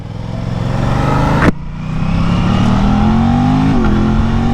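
A 2023 Aprilia RS660 motorcycle accelerates with its engine rising steadily in pitch, close and loud, with a brief gear shift interrupting the climb before it pulls on again.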